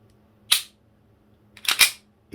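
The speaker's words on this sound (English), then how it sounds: "Hold down the slide release here. Nice and snappy." On an Army Custom Staccato 4.3 Hi-Capa pistol, the slide snaps forward with sharp, crisp mechanical clicks: one single snap, then a quick double snap about a second later, close and clear over near silence.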